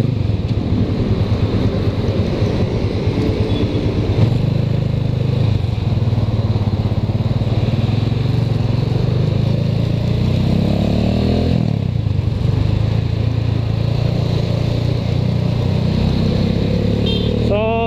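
A motorcycle rides along Commonwealth Avenue, its engine droning steadily and loudly up close under heavy wind rush, with shifts in engine pitch as it changes speed and surrounding traffic noise.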